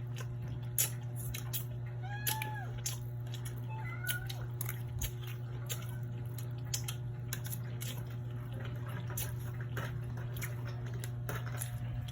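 Several cats meow in short, rising calls over a steady low hum, with scattered clicks and chewing noises of people eating fried fish throughout.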